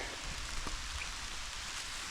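Rain falls steadily through a forest during June mushroom picking, a soft, even hiss with faint pattering drops and no voices.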